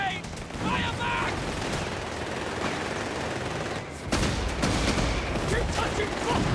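Dense video game gunfire from Company of Heroes 3, set in a North African campaign, crackles in rapid bursts with sharp loud reports, overlapping shouted voices throughout.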